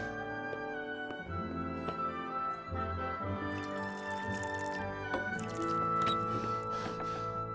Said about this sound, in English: Pour us a drink.